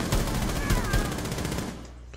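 Dense automatic gunfire in the shooter game Rainbow Six Siege rattles continuously for about two seconds at close, loud range, then trails off sharply at the end.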